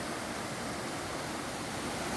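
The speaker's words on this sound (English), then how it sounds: "Beautiful waterfall." A dense, steady roar of falling water fills the clip without pause, broad and constant like a nearby cascade on the Appalachian Trail near the Smoky Mountains, then cuts off abruptly.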